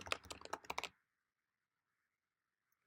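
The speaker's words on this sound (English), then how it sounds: "simply click in any text fields and start typing" Rapid typing on a computer keyboard gives a quick burst of close, crisp key clicks for about a second, then stops and leaves near silence.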